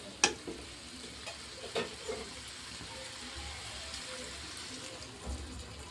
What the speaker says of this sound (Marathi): याच्यावर थोडंसं पाणी घ्यायचं आपल्याला